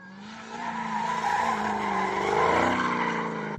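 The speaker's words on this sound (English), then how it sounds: "as you rev the car" A supercharged Dodge Demon engine revs loud and close, its note climbing and holding steadily with a whining, rising harmonic sweep, alone with no talk.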